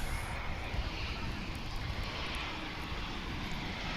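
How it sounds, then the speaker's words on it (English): An American Airlines A321 airliner arriving at Dallas/Fort Worth International Airport on its landing approach, a distant, steady engine roar and broadband rumble holding level throughout. "as we look at an American Airlines 321 coming in from Los Cabos in Mexico"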